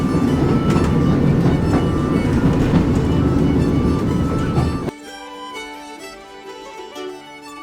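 A passenger train rumbles loudly with rhythmic clickety-clack of wheels on rails, then the roar abruptly drops to a quieter interior hum with faint tones and rattles.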